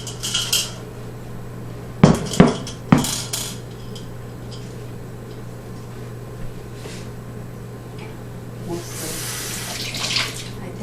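Tap water runs steadily while orchid leaves are washed with soap and water. A few sharp clinks and clatters of handled items stand out early on, with no talking.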